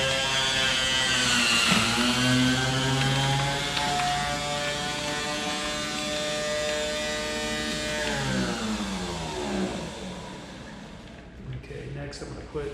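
A Cuisinart electric juicer runs steadily while vegetables are fed in, a loud continuous motor whine that rises and falls in pitch as the produce is pushed through.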